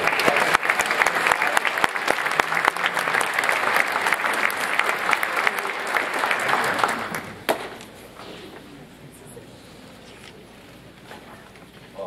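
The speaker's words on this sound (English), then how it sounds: "Another round of applause." Audience at a high school scholarship awards ceremony applauds loudly and steadily for about seven seconds, then the clapping stops abruptly, leaving quiet room tone with a faint voice.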